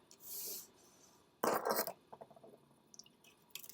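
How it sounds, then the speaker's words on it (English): A vinyl decal being burnished onto a sign, heard as quiet scraping rubs in short strokes: one soft swipe, then a firmer rasping pass and a few lighter scratches, close and faint with no talking. "I'm just going to burnish that on."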